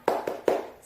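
Primary-school class clapping the 'tepuk semangat' rhythm, three sharp claps in quick succession with the last one loudest, close and alone.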